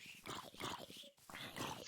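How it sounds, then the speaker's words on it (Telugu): A dog in the video game Minecraft makes a couple of short whimpering yips and whines, close and fairly clear, in quick bursts with a brief gap between them. "రే కుక్క ఉంది. కుక్క"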